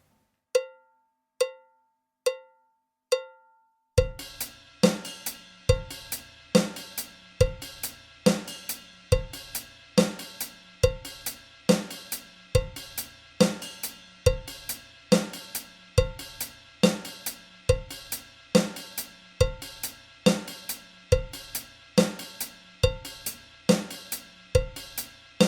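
A drum kit plays a steady offbeat sticking pattern, bass drum then alternating right and left hand strokes on the cymbals, opening with a few sparse hits before a dense, repeating metallic groove settles in and continues without talk.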